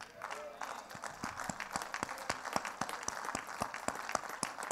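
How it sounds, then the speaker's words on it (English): A church congregation standing to applaud during a Sunday service, sparse distinct claps over a faint murmur of voices, irregular and fairly distant in a large room. "let's stand and give a great big round of applause to all the factory-made women"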